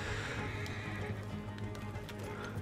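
Horse neighing and whinnying in the Red Dead Redemption 2 video game, with clip-clopping hooves and steady game ambience throughout, fairly close and clear with no talk over it.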